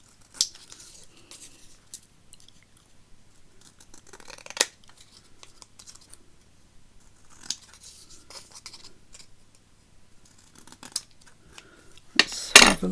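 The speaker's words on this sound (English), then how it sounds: "just need to trim it a wee bit around it" Scissors snip paper while a journal cover is being trimmed, with sparse, close cuts and rustles separated by quiet gaps and a louder burst of handling at the end.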